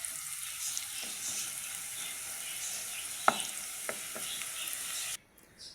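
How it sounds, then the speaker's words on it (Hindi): Onions frying in a pan for a shorba base, a steady sizzle with a few sharp clicks and taps near the end before the sound cuts off abruptly. "बिल्कुल प्याज हो जाएगी फ्राई"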